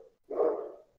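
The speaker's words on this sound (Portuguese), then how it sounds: "Tem um cachorro latindo desesperadamente." A single short dog bark, muffled and somewhat distant, as if from a dog outside during an online tabletop role-playing session.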